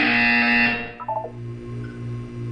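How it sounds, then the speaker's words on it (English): A loud, harsh electronic buzzer from the video game Portal 2 blares for about half a second, then cuts off, leaving a low hum and a few soft tones. "You will hear a buzzer."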